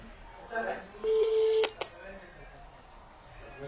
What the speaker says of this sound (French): On va changer le téléphone, on va l'appeler.